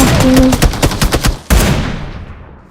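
Loud automatic gunfire in an online shooter match, a rapid burst of close shots followed by a single heavy report that rings out and decays.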